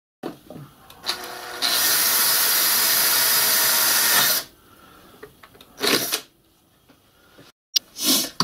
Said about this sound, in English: I've got my hole marked underneath the floor of the cab and I'm going to pilot drill it.